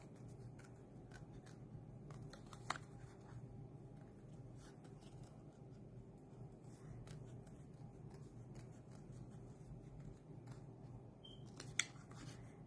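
Scissors cutting out stamped designer series paper for a card project. Faint, close snips come at irregular intervals over a soft background hiss, with no talking.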